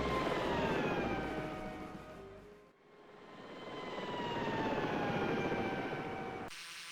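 Aircraft landing in a flight simulator game: a steady, loud engine drone with whining harmonic tones, dipping briefly midway before swelling again, then cutting off abruptly near the end.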